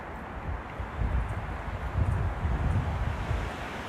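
Strong gusting wind roars outdoors near condos where a big tree was toppled, a loud, continuous low rumble with microphone buffeting that swells and eases over several seconds.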